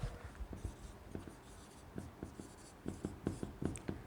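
A teacher writes on the board during a class III Hindi grammar lesson, making a quick series of soft taps and scratchy strokes in an uneven rhythm, close and fairly quiet, with no talking.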